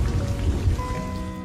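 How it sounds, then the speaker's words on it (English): Heavy rain pours in a steady, dense hiss of drops striking surfaces, continuous and loud throughout with no voices. "During the quiz, it started raining heavily."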